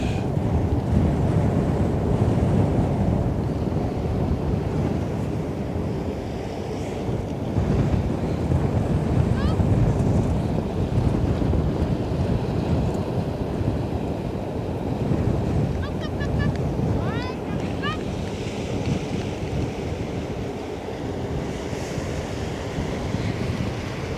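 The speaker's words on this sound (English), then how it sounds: "I am thinking how I can capture the ambient sounds of the water a bit" Water waves wash steadily along the Westerschelde shore in the Netherlands, a continuous broadband surge mixed with gusting wind buffeting the microphone, with no voices.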